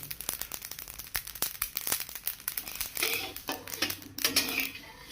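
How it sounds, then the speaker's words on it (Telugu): Mustard seeds spluttering as they fry in a large batch for temple-style kadambam prasadam, a dense run of sharp crackles and pops, close and busy, with scattered louder bursts. "ఆవాలు చూసారా ఆడుతూ వేగిపోతున్నాయి"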